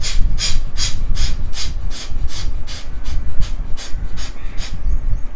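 Kapalbhati Pranayama breathing: a rapid, regular series of about a dozen sharp, forceful nasal exhalations, close and loud, pulsing roughly twice per second.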